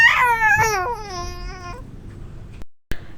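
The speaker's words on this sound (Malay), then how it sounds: "terdengarlah suara tangisan bayi" An infant wails in a mystery story set at an old jetty in light rain, a loud, close, wavering cry lasting about two seconds before breaking off into near silence and a couple of short clicks.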